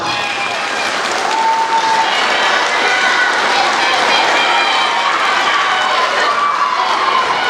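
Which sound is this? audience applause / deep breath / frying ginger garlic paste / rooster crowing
audience applause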